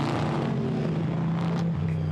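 GT4 race cars pull away together on the formation lap at Zandvoort, a steady blended engine drone holding at moderate volume throughout with no voices.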